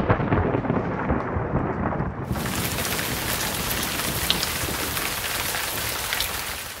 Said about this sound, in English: we got just an epic amount of rain